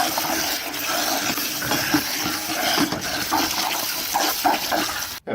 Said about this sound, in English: let's go and wash the bucket out